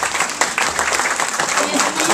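Audience applause after a speaker's remark at a French talk, a steady dense wash of clapping throughout with some voices mixed in beneath it.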